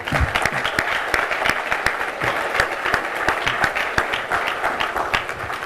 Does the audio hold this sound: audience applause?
yes